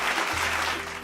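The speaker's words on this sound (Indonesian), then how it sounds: "Beri tepuk tangan." Applause from a group of children at a Malay-language children's class quiz, a short burst of dense clapping filling the whole second at steady loudness.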